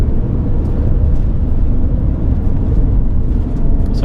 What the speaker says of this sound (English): if I drop the foot to the floor, you see it drops into 3rd gear and away it goes